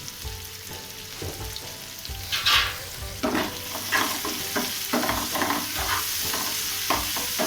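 Sliced onion with salt and turmeric is stirred in a frying pan for a yogurt chicken curry. A spatula scrapes in repeated strokes over a steady sizzle, close and fairly loud, with no talking.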